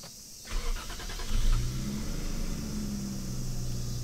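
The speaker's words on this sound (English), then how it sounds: "I'm going to turn the engine on so that you can see this." A 1986 Toyota Cresta twin turbo cranks briefly, then its engine catches and settles into a steady idle with a low, even rumble, heard close with no voices.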